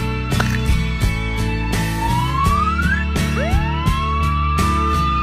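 An animated toy police car siren wails with rising electronic tones over a busy, bouncy music track, loud and close.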